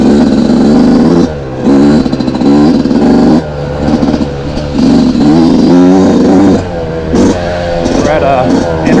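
A Yamaha YZ two-stroke dirt bike warming up at an off-road trail area, engine idling loud and close with repeated blips of the throttle rising and falling, under a voice.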